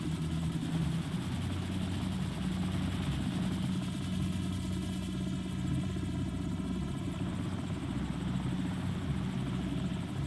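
A helicopter in Call of Duty 4: Modern Warfare drones steadily with a continuous thrumming rotor and engine rumble, loud and close, holding unchanged throughout.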